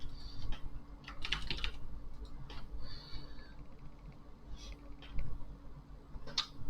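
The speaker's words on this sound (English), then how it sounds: "put notes into your meeting and start typing in here" Typing on a computer keyboard comes in scattered bursts of light clicks, with brief gaps between short runs of keystrokes, over a low steady background hum.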